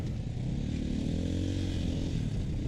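Motocross dirt bike engine on an MX track, a steady loud mid-pitched drone with rising revs as the rider shifts up through the gears, continuous and close throughout.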